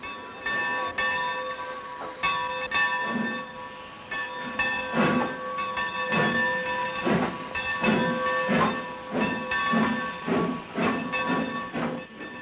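A steam train at a station hisses continuously, with a steady whistle-like tone and rhythmic chuffing bursts of steam, loud and close, with no talk.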